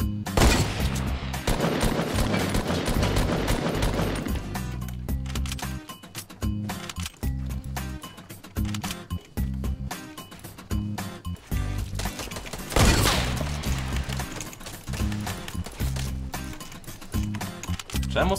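Gunfire in the video game Fortnite: bursts of rapid automatic shots and single cracks, loud and close, with pauses between volleys and game sound effects around them.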